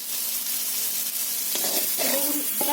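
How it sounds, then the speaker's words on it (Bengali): Eggplant fries in hot oil in a wok with a constant close sizzle and crackle, joined toward the end by a few clinks and scraping sounds of a utensil against the pan. "বেগুনটা ভাজা হয়ে গেছে"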